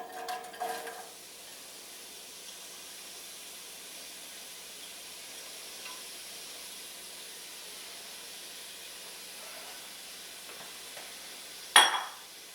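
Chopped carrot sautés in a hot pot for cream of tomato soup, a soft, steady sizzle and hiss throughout, with a few utensil stirs and a sharp clatter near the end.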